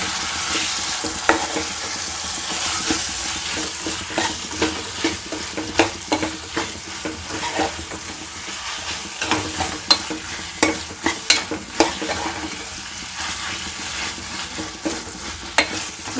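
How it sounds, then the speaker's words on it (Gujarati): Green chickpeas are stirred in a sizzling pan of spiced mix, with a steady fry hiss and repeated close scraping strokes of a spoon against the pan, no voices. "હવે આપણે એમાં ચણા એડ કરવાના છે ચણા સરસ મજાના મિક્સ કરી લઈએ"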